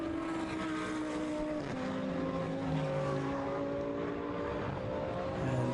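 GT race cars from the 2011 Blancpain Endurance Series at Silverstone scream past in a dense pack, several engines overlapping with rising and falling pitches, loud and steady throughout.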